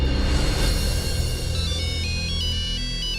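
A mobile phone ringtone plays loudly and steadily, its bright repeating electronic melody ringing on without pause; no one speaks over it.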